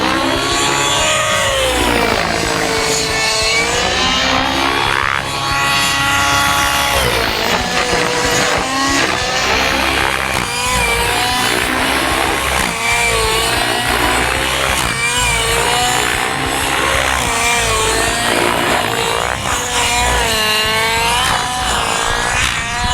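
Radio-controlled helicopter with a Futaba GY701 gyro flying a big pirouetting loop in light wind, its loud, continuous whining rotor and motor drone rising and falling in pitch as it swings through the manoeuvre.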